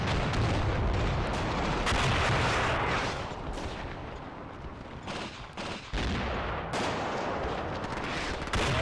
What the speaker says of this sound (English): We'll let these troops open fire.